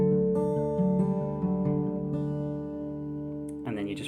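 Steel-string acoustic guitar fingerpicking the pattern from a song, thumb on the low string alternating with higher notes, ringing close and steady for a few seconds before a brief stronger strum at the end.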